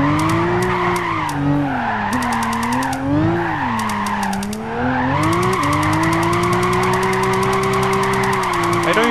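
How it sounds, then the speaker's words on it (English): A Toyota Aristo drifts in Gran Turismo 5, its tires squealing in long wavering skids over a loud revving engine, the pitch rising and falling through the corners. "It's just such an easy car to drift around in."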